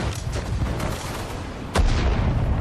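Grenades exploding against a tank during the Fourth Battle of Kharkov in the World War II strategy game Sudden Strike 4: a dense battle din followed by one sharp, loud blast near the end, with no talking.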